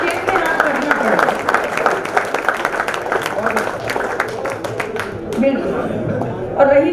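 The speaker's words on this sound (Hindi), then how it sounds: "तालियां मिलके बजा लीजिए" Audience applause at a Hindi comedy show with a woman comedian, a dense, continuous wash of clapping mixed with crowd chatter, loud and close.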